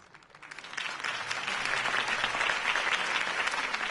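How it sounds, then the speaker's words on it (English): Crowd applause in a Batman video game swells up quickly and holds steady, a dense wash of many hands clapping, loud and close. "If only Mr. Wayne, my campaign's largest backer, could have heard that applause"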